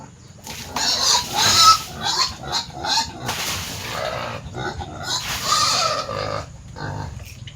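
Pigs grunt and snuffle close by in a steady stream of rough, low noises at morning feeding time, with some clattering and faint background chatter.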